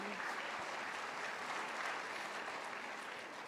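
Congregation applause at a church service, a quiet, even, sustained wash of clapping heard from some distance with no standout claps.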